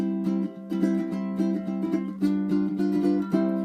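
A ukulele is strummed quickly with a finger, bright chords repeating in a steady, lively rhythm, close and clear with no talking.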